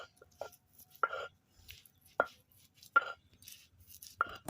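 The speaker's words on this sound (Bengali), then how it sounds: "এবার আমি কাঁঠালের আটিগুলো শিলপাটায় নিয়ে নেব। অল্প অল্প করে নিয়ে বেটে নেব।" Boiled jackfruit seeds ground a little at a time on a stone grinding slab, a few separate sharp knocks and gritty scrapes spaced about a second apart, close and fairly quiet.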